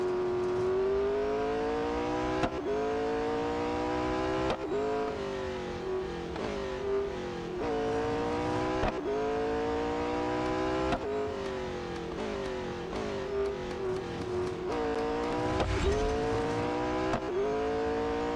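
A McLaren 600LT engine in the Real Racing 3 video game revs and shifts continuously, its pitch climbing and dropping repeatedly with gear changes over sustained racing, loud and close with no talk.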